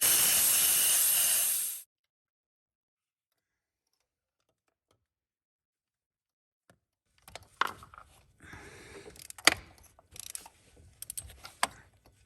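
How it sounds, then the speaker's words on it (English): Compressed air blasts into a spark plug well on a 2016 Ford F-150 2.7L EcoBoost, a loud steady hiss lasting under two seconds that cuts off abruptly, followed by silence and later faint tool clatter. "we have a little compressed air here. We're just going to blow out this."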